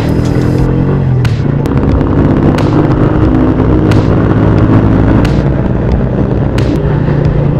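Loud, close road traffic in Barugo, heard from a Motoposh Pinoy 125 motorcycle: engines rumble densely without a break, and sharp clicks and bangs pop out at intervals.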